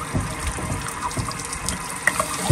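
Water flushing out of a Suburban RV water heater drain during anode replacement, a steady splashing gush that runs continuously with a few brief louder spurts near the end.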